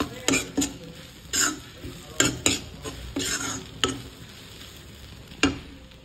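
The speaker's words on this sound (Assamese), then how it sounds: "গতিকে এনেকৈ এতিয়া অলপ টাইম ভাজিম" Carrot halwa frying in a pan, with repeated sharp scrapes and clinks of a spoon stirring against the metal over a low sizzle, in short irregular bursts close by.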